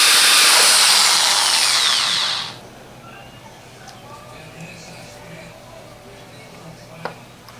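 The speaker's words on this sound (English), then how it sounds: "now I'm going to drill a hole in here, and hopefully I don't crack anything" A power drill grinds loudly into a glass jar filled with water for about two and a half seconds, then cuts off. Quiet background and faint handling noises follow, with one short tap near the end.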